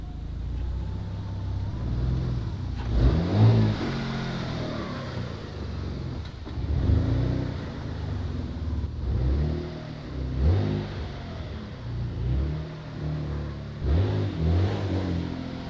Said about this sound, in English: It is, the car's moving forward.